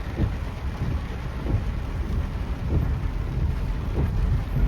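Rain pouring onto flooded roads in Alibag during heavy traffic, a dense steady wash of falling water with low rumbling underneath, continuous and close.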